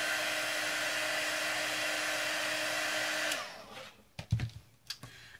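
A heat tool blows steadily at close range while setting paint on a craft embellishment project, a constant whooshing drone that stops after about three seconds, followed by a few light clicks and knocks.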